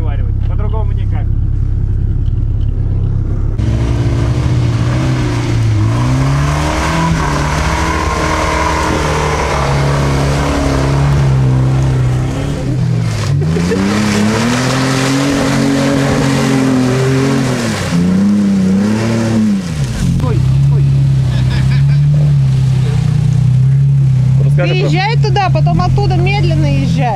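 Two car engines rev loudly and rise and fall repeatedly as they try to pull a stuck car free. The sound is close and continuous under people talking.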